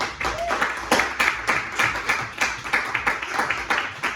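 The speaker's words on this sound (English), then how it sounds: "Ladies and gentlemen, get that round of applause going." An audience at a stand-up comedy night claps at the end of the set, with sharp individual hand claps in a fairly steady rhythm and a faint voice briefly underneath.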